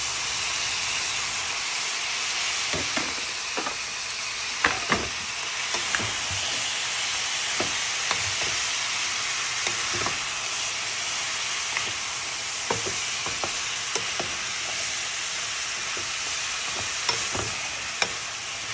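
Garden-harvested string beans with soy sauce frying in a pan for adobong sitaw: a continuous sizzling hiss broken by frequent light clinks and scrapes of stirring, close by and without talk.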